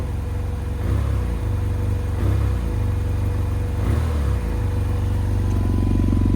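A 2015 BMW F800R motorcycle engine idles roughly because of a faulty coolant temperature sensor, giving a loud, steady low thrum with uneven surges and dips in rhythm, close up with no talking.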